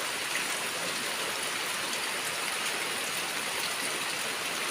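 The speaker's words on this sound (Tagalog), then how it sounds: "Basta ang ulan." Steady, dense rain falling, an even hiss of drops that stays constant and fairly close throughout, with no voices.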